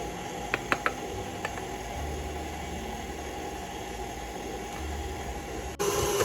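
A stand mixer kneads noodle dough as flour is added, giving a steady mechanical whir and grinding hum with a few clicks near the start and a brief shift near the end.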